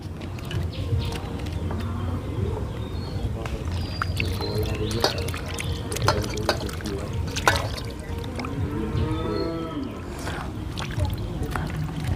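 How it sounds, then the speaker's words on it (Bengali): Bakful (agati) flowers are rinsed by hand in a bowl of clean water, giving close splashing, trickling and sloshing sounds in an irregular rhythm, with a bird chirping faintly in the background. "এবারে আমি পরিষ্কার জলে ধুয়ে নেবো"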